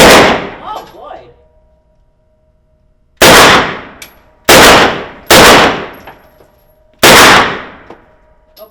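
A machine gun fires on full auto in four loud, separate bursts, each sharp and ringing briefly before cutting off, with short pauses between them after a brief voice at the start.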